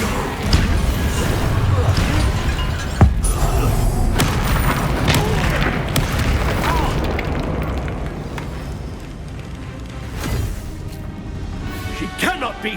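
Hogwarts Legacy Confringo blasting spell hitting during a fierce duel: loud booming explosions and crackling fire, with a sharp blast near the start and talking mixed in as the roar gradually fades.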